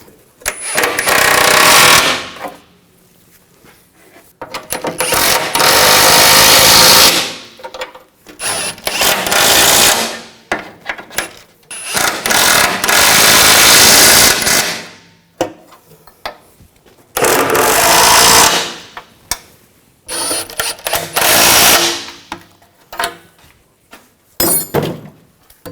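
Bolts being tightened on a CV axle of a 2000-2006 BMW X5, a power tool rattling in several loud bursts of a few seconds each, separated by short quiet gaps.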